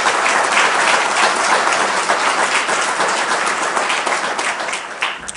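A lecture audience breaks into steady, loud applause, dense clapping with no voices that thins slightly toward the end.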